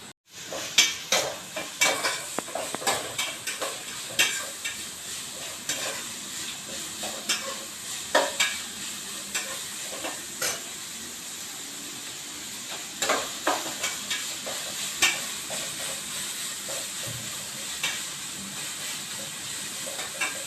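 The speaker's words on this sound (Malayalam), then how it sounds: "ക്യാരറ്റ് ചെറുതായിട്ട് വഴന്ന് വരുന്നുണ്ട്" Steady sizzling of carrots sautéing in a pan with repeated stirring scrapes and clatters, close by, continuing throughout without any talking.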